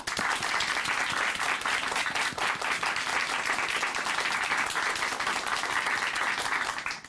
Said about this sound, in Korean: 우리가 응원의 박수 보내드리겠습니다